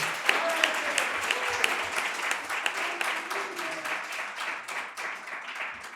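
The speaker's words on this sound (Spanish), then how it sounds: "Un fuerte aplauso por ello." Applause from an audience at a community panel event, many hands clapping in a steady sustained patter heard from a short distance, with faint voices underneath.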